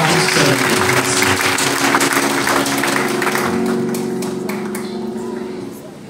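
A church congregation applauds loudly through a harvest festival service, the dense clapping mixed with a voice speaking over it and fading slightly toward the end.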